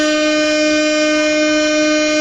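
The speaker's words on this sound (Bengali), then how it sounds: "একটা হর্ন দিয়ে দিই বড় শুরু।" A loud, sustained locomotive horn sounds in the Train Simulator Bangladesh game, a single steady multi-tone blast holding for over two seconds.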